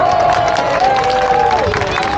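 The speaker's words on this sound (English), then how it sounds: "Give a massive round of applause." An airshow crowd at the English Riviera Airshow claps and cheers after a Red Arrows display manoeuvre, a brief wash of applause at moderate distance, with a tonal whine and a voice over it.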